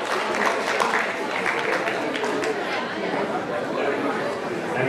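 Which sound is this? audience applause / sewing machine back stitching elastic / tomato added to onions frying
audience applause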